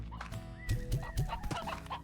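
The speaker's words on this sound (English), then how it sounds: "Constantly free-range hens." Hens clucking in the game Slime Rancher, a few short throaty clucks close by, repeating in a loose rhythm over a steady musical background, with no voices.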